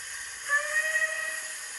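A faint, thin steam whistle from a model J72 steam locomotive sounds briefly over a steady background hiss, small and tinny.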